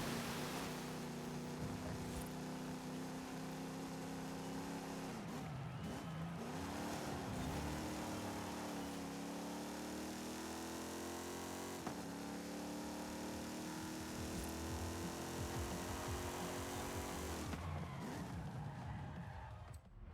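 An Oldsmobile lapping a race circuit in Forza Horizon 5, its engine droning loud and steady throughout, rising and falling through gear changes with brief tire scrubs in the corners.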